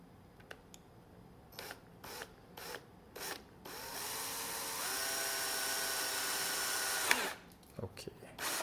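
A power drill bores into a waterproof electrical junction box, first a few short tapping bursts, then a sustained rising whine for about three seconds before stopping, close and loud.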